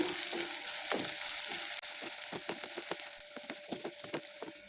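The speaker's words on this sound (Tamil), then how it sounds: "இப்போ இந்த வெங்காயம் நல்லா ஒரு பொன்னிறம் ஆனால் போதும்." Onions fry in a pan toward golden brown, a quiet steady sizzle overlaid with a run of crisp clicking spoon scrapes as they are stirred, no voices.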